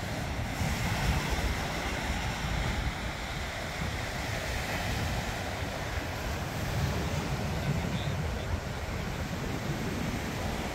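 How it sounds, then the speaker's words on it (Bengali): Ocean waves roar onto the beach at Fort Lauderdale, Florida, toward evening. The surf makes a steady, unbroken wash of breaking water with some wind, and no one speaks. "ঢেউয়ের গর্জন।"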